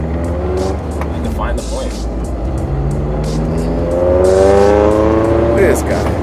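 A Honda S2000 sports car engine revs and climbs through the gears while driving, its rising engine whine loud and close, with people talking over it inside the car.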